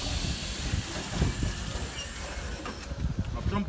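A passing ten-car ER9E electric train on the Bilhorod-Dnistrovskyi to Odesa line rumbles and hisses steadily, wheels clattering over the rails, with a broad rushing noise throughout.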